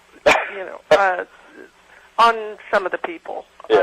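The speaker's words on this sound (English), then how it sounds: "pardon my dog in the background." A dog barks several times in the background, sharp isolated barks in quick bursts, mixed with someone talking over a phone-like line.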